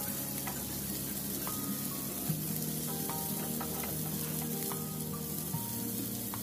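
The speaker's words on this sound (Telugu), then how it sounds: "మెల్లగా స్లో ఫ్లేమ్లో పెట్టి మనం గోల్డెన్ కలర్ వచ్చే వరకు ఫ్రై చేసుకోవాలి." Onions fry in oil over a slow flame for chicken dum biryani, giving a steady, close sizzle with soft crackles and occasional stirring scrapes, no voices.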